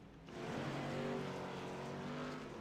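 A race car spinning out in a modified-series racing video game at a short bullring oval, a sustained engine drone rising in with tire squeal over it, moderately loud and steady, with no talk.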